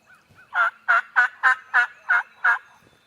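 A turkey gobbles in a quick series of seven rhythmic bursts, clear but somewhat distant in Georgia pine woods, with no talking.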